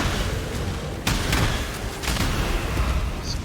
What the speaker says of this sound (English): Just exploding everything.